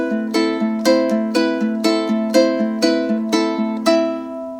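Ukulele plays a chord melody with an index-and-thumb strum, steady repeated strummed chords in an even lilting rhythm with the melody on top, close and bright, no voices.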